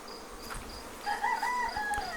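Honey bees swarm around an open Apimaye Ergo hive outdoors on a warm, sunny day, their steady buzzing drone sounding close and continuous, with a few louder whining passes near the end.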